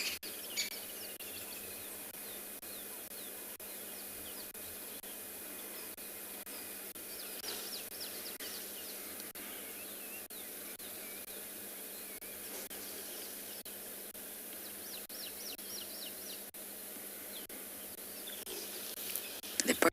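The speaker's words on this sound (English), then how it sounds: "The birds are especially noisy because the weather is clearing up." Birds calling at sunrise on a safari reserve as rain clears, faint scattered chirps and trills over a steady insect-like buzz and hiss, quiet and distant throughout.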